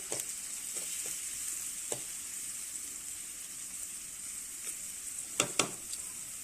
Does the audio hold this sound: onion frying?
yes